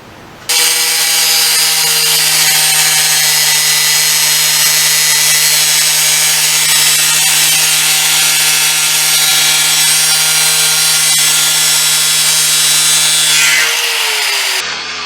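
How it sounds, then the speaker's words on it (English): An angle grinder cuts steadily for about thirteen seconds: a loud, sustained high-pitched whine with steady tonal hum, starting abruptly and winding down at the end, close up with no talking. "So we're going to use the wrong tool, the grinder, to do cutting."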